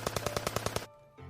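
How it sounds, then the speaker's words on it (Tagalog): Rapid gunfire bursts out in a quick string of about eight evenly spaced shots, loud and close, then cuts off into near silence with a low rumble afterward. "nang biglang makarinig sila ng sunod-sunod na putok"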